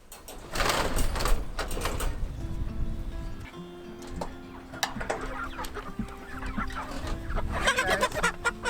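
Several chickens on a homestead cluck and squawk nearby as they are gathered up, with scattered rustling and shuffling movement throughout.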